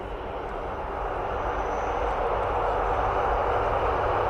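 Military aircraft at RAF Mildenhall, its engine a steady, loud broadband roar that builds slightly and holds throughout, continuous and fairly close with no talk over it.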